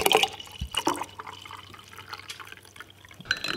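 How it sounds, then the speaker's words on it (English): Water poured into a freeze-dried food pouch outdoors, making a brief splash and trickle with a few soft drips and rustles, fairly faint and close. "And then the water to go with my freeze-dried food."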